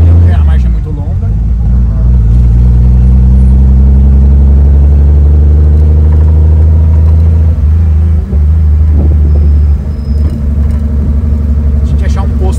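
A Volkswagen Caravan with a turbo engine drones loudly from inside the cabin, a deep steady engine rumble that climbs gently in pitch as the revs rise, with people talking over it.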